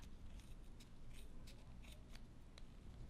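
Scissors snip their way around a ball of pom pom yarn, giving a quick run of faint, crisp cuts that come in an uneven rhythm over a low steady hiss.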